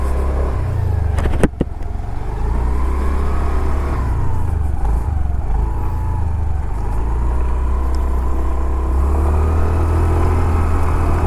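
A Honda Activa 6G STD scooter rides along a road with a steady, continuous engine drone and road rumble, the level holding even throughout with a brief knock near the start.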